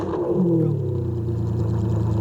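A Ferrari Enzo engine with a straight-pipe exhaust blips up with a roaring rev, then falls steadily back down into a low, even idle drone close by.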